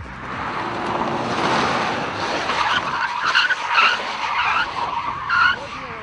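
Tires screech and skid as a car swerves hard on a test track, tipping onto three or two wheels, a rough roaring hiss with rising squeals, heard from nearby and steady throughout.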